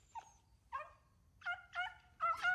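A dog gives a few short whimpering whines followed by quick yipping barks, close and fairly faint over a low rumbling background.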